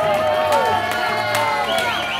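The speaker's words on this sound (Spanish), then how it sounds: "fuerte aplauso." Studio audience on a Spanish television entertainment show cheers and applauds loudly, a dense crowd roar with whoops and bright clapping running throughout, mixed with music or voices underneath.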